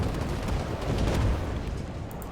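Gunfire in the video game Iron Conflict: heavy booming shots and rumbling blasts at moderate loudness, rolling over a dense battlefield background for a couple of seconds, with no talk.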